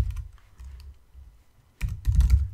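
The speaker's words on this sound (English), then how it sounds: "So we'll just type" Typing on a computer keyboard during an iOS Swift coding session, with a few soft scattered keystrokes followed by a louder quick cluster of taps, close and alone.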